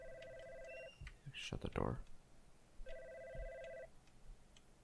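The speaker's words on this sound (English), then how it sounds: "I hear a phone call." An office telephone rings in the horror game God's Basement, two electronic trilling bursts with a gap between them, while a voice speaks briefly over a door-like thump in the middle.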